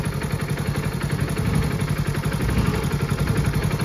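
A car engine idling steadily at about 1350 rpm just after starting, a loud, even, continuous mechanical hum with a faint clatter and no voices.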